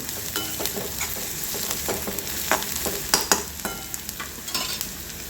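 Transparent onion sautéing in a pan with turmeric, salt, chilli and dry spices for a spicy onion-tomato chutney, a continuous close sizzle with frequent spoon scrapes and taps as it is stirred, without speech.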